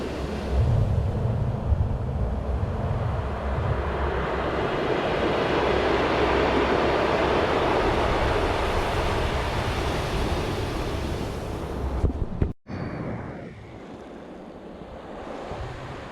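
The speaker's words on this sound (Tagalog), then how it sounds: "Napakasarap pakinggan ng mga alon." Ocean waves wash steadily over a pebble beach in La Union, a broad continuous roar of surf with rolling swells and some wind, cut off abruptly near the end, leaving a quieter wash.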